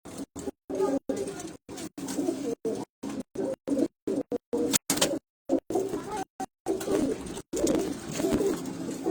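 Racing pigeons of a Pakistani fancier's loft coo steadily in a low, throaty murmur, the sound chopped by frequent brief dropouts, with faint voices mixed in.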